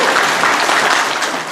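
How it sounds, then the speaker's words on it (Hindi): Sustained applause from an audience in a hall during a talk, a dense steady wash of many hands clapping at once, loud and continuous without pause. "तालियां तो बजाइए।"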